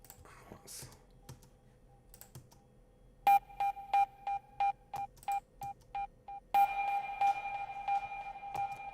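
Short repeated synth blips spaced evenly and trailing off in echoes, followed by a washy reverberant tail; a delay with hybrid reverb effect, fairly quiet.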